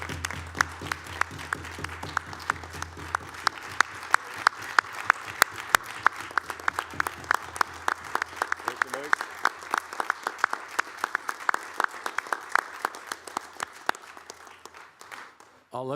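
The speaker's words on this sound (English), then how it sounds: "I'll let the applause speak for itself" At a city council meeting, an audience applauds for an outgoing acting city manager, a sustained round of steady clapping at moderate distance with sharp individual claps standing out, cutting off near the end.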